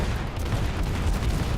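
Naval ship guns fire in the video game World of Warships, a dense loud barrage of overlapping booming shots rolling continuously through the whole short stretch.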